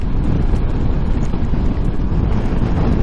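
Constant loud wind rush buffets the microphone while riding a Ducati Multistrada V4S motorcycle, a dense low roar that stays steady throughout as if moving at speed.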